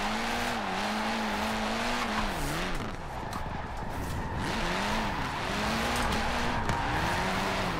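A car drifts through a street slalom in Forza Horizon 4, its engine droning and revving in wavering pitch while tires squeal continuously through the turns, loud and sustained.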